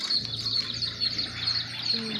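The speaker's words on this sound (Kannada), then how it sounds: "ನೋಡಿ ಇಲ್ಲಿ ಪಕ್ಷಿಗಳು ಬರ್ತವೆ" Several birds chirp and tweet in the background, short high calls overlapping against a faint steady hum and a murmur of voices.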